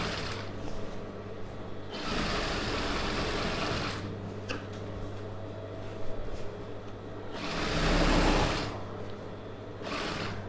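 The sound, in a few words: sewing machine stitching a Patiala pant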